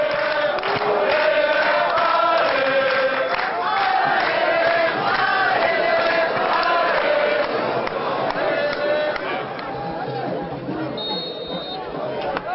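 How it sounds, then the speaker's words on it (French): A football stadium crowd of keyed-up supporters roars and cheers as the teams walk onto the pitch, a dense, continuous wash of voices and shouts with a commentator talking over it. "Les deux équipes entrent sur le terrain sous les applaudissements des supporters gonflés à bloc."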